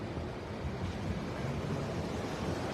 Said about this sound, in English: look at this, the water's flowing really quickly. Out in the river, it's flowing a lot faster than nearby.